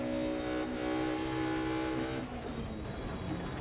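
Rally car engine in DiRT Rally 2.0 on the Hancock Hill Sprint Forward stage, held at high revs with throttle pinned, a loud continuous harmonic roar that shifts pitch slightly near the end, with no talk.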